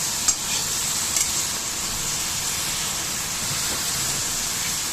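Salted cauliflower florets sizzling steadily in a hot pan, with a couple of faint stirring scrapes near the start and a constant hiss throughout, close and moderately loud with no talking.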